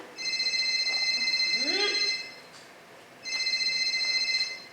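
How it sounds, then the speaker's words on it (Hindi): A mobile phone ringtone of steady electronic tones plays in two long bursts with a pause between, while a voice speaks briefly underneath. "मोबाइल बज रहा है, मोबाइल।"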